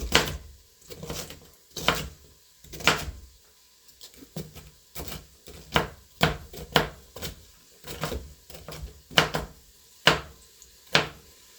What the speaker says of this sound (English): I'm going to show you how we're going to chop them nice and small